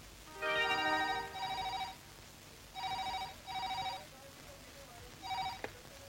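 A telephone rings in several short bursts of bright electronic trills, loud at first and then repeating with pauses, with a faint final ring near the end and no talking over it.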